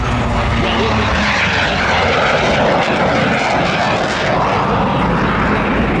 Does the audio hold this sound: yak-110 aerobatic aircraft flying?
yes